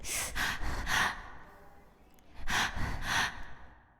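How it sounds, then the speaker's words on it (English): A streamer's heavy breathing while playing the horror game Phasmophobia: two clusters of loud, rough, gasping breaths close to the mic, separated by a quieter pause. "if you ever need a breathing sound effect, this is my reel"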